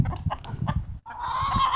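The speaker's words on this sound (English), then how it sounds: "Got a few chickens here who've gotten out of the pen." Chickens loose outside their pen cluck in short repeated bursts close by, with a brief pause and then a sustained higher call toward the end.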